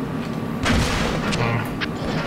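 Tank cannon fire in World of Tanks during a clan wars battle, with a couple of booming shots over a steady rumbling game backdrop.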